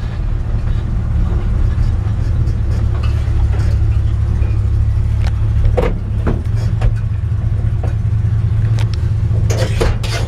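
A 1963 Ford F100 pickup with a mild exhaust drives along, its engine a steady, close low rumble that holds throughout with brief clicks and knocks on top, and someone speaks briefly over it.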